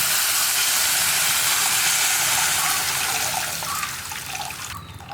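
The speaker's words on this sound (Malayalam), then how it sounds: "ഞാൻ ഇതിലേക്കൊരു 1/2 കപ്പ് വെള്ളവും കൂടി ചേർക്കുന്നുണ്ട്" A steady, loud rush of water pours continuously into a bitter gourd tamarind curry, hissing and splashing, then tapers off and thins near the end; no voices are heard.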